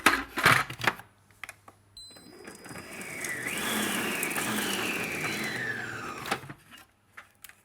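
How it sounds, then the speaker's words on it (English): A food processor whirs through a quick chop of chillies, a rising then steady motor whine lasting about three seconds, framed by close clicks and clatter as the lid goes on and comes off. "And we'll pop that into a food processor."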